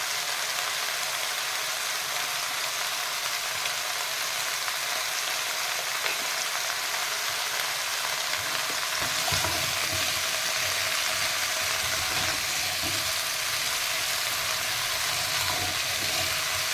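Food fries in a pan as it is stirred, a steady bright sizzle running throughout with faint scraping and knocking from the stirring in the second half, and no voices.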